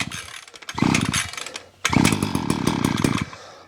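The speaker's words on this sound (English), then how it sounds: "once you hear it start and stop like that" A Wild Badger 52cc two-stroke brush cutter engine, choke on full, sputters to life in two short bursts, revving loudly then cutting out, with a brief pause between.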